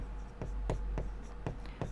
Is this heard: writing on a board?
yes